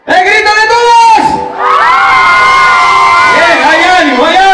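A concert crowd at a night show in Santa Bárbara roars with loud shouts, whoops and sustained cheering, a dense wall of voices rising and falling across several seconds.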